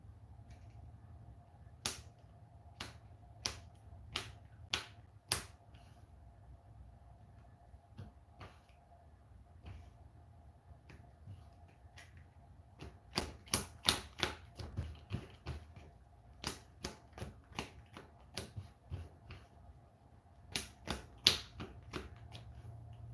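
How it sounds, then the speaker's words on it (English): Playing cards from a deck are shuffled by hand during a board game, giving bursts of sharp, rapid flicking clicks in two clusters, the later one denser and louder, over a quiet low room hum. "Gotta draw a card, so that means shuffling my deck."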